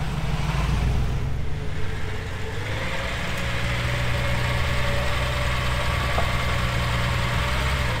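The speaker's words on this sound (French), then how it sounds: "T'entends ça, c'est les vraies sonorités Ferrari à l'ancienne, les vrais V12." A classic Ferrari Daytona V12 idles nearby on a winter street in Monaco, a steady low rumble with a smooth, even burble and a slight rise and fall, loud and continuous with no talking.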